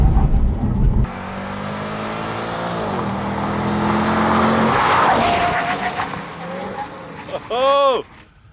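A Chevy SS sedan accelerates hard, its engine rising in pitch through several gear changes with a steady, loud roar over about seven seconds. Voices talk over it, and a brief whistling sweep comes near the end.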